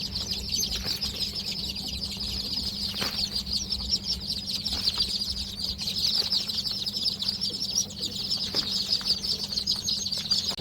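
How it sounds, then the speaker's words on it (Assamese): Day-old chicks poured from a box onto the floor for counting, a dense continuous chorus of high peeping with scattered soft thumps and rustles, moderately close and steady throughout, with no talk. "আমি এইটো বক্সৰ পৰা পোৱালি ইয়াতে ঢালি লৈছোঁ, যাতে আমি গণিব পাৰোঁ।"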